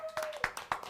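A handful of sharp, separate hand claps sound close by as an audience applauds the musicians after a performance, roughly five crisp strikes in an irregular rhythm, with a faint steady tone running underneath.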